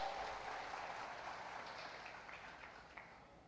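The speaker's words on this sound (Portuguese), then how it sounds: "Pode aplaudir o Senhor, que Ele merece" Church congregation applauding after the pastor's sermon, a steady wash of many hands clapping, somewhat distant and faint, tapering gently, with no talking over it.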